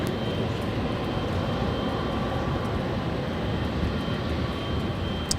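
A Philippine Airlines Boeing 777-300ER taking off from runway 24 left at LAX, heard as a continuous loud, broad jet engine roar with a steady rumble, constant throughout.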